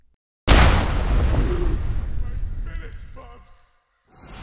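A flashbang explodes in an animated comedy series, one sudden loud boom that decays over about three seconds into a fading ringing hiss.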